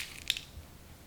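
A crispy fried semolina and potato snack is snapped in half, giving one quick, sharp crunch followed by a faint crackle, close and quiet with no talking.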